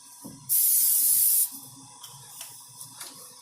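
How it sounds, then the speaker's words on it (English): One steady hiss of cooking spray from an aerosol can onto a pan lasts about a second, followed by faint clinks and light kitchen clatter. "Our spray."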